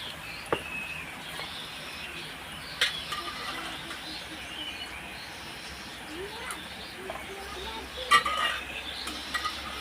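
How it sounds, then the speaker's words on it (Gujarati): Onions frying in oil in a pan for a bitter gourd curry, a soft steady sizzle with occasional clinks of a spoon stirring against the pan. "જો આપણી ડુંગળી રૂપારી તેલમાં એકદમ ને હળહળે જાય પછી એમાં મીઠું નાખી દેવાનું"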